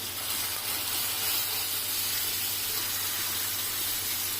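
Boiled and drained papaya frying in a pan gives a steady, dense sizzling hiss, close and unbroken, with no talking.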